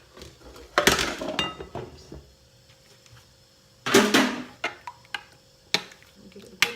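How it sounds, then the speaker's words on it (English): Tomatoes and onions stirred in a bowl for dahi barhe, a few bursts of spoon scraping and clinking against the bowl separated by quiet gaps, close and moderately loud. "Give it a good mix"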